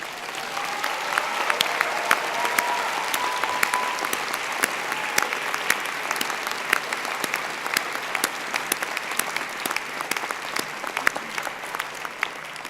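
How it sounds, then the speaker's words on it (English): At an honors convocation, an audience gives long, sustained applause: a dense bed of clapping with sharper individual claps cutting through, fairly even in volume throughout. "So a round of applause, please, for the friends and family."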